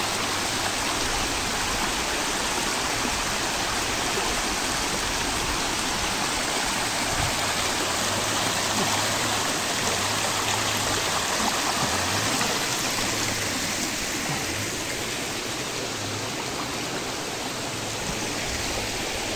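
Water rushes steadily over a small farm dam, a continuous broadband roar of flowing stream water that holds constant and fairly close throughout, with no talking.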